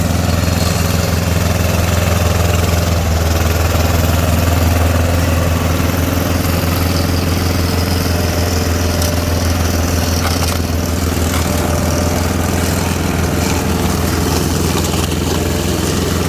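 A Kubota tractor drives a prototype 1.4 m hammer-blade grass cutter. It gives a loud, continuous low engine drone with steady mechanical rattle, close and unbroken throughout.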